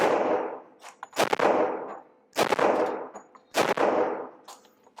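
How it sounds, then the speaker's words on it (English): Glock pistol fired at an outdoor target range, three loud sharp shots spaced about a second apart, each with a ringing metallic clang and a fading echo tail. "Here we go, another 10 shots."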